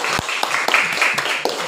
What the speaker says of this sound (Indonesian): kita beri tepuk tangan buat kelompok 2